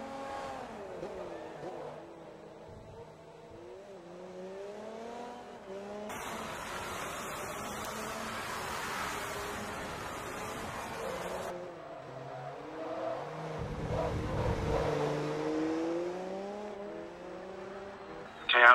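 Formula race cars, a Super Aguri chasing a Ferrari in a racing game, roar with rising and falling engine whines, a loud rushing passage in the middle and revving near the end, with a commentator talking over them.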